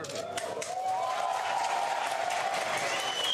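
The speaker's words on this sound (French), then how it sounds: "Sous les applaudissements des Marines, Donald Trump, visiteur surprise dans cette base américaine en Irak." US Marines applauding President Donald Trump at an American base in Iraq, sustained crowd clapping and some cheering that runs steadily throughout with a tonal sound sliding above it.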